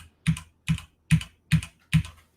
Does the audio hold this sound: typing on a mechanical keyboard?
yes